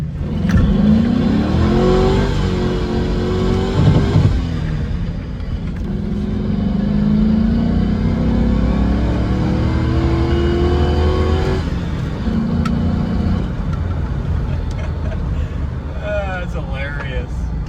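A GMC Denali drift truck's engine revs hard and loud, rising and falling in long pulls with a strained, rough tone, while voices talk over it throughout.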